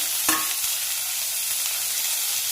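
Chopped garlic and tomato sautéing in a pan for village-style crab gravy give a constant close sizzle, with one brief clink of stirring near the start.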